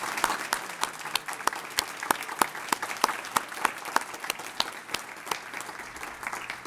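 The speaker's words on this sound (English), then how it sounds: "Give each other a round of applause." Teachers at a leadership summit awards ceremony give each other a round of applause, a modest crowd clapping with distinct sharp claps at a moderate, even pace, heard from some distance.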